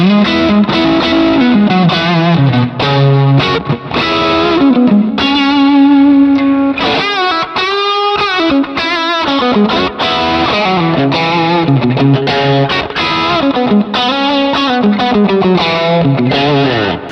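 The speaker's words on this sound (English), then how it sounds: "so I get a little more true Plexy sound." Electric guitar played through a crunchy, mid-heavy Plexi-style overdrive on a Helix modeler, ringing chords and riffs sustained loudly with no pauses, with no voices.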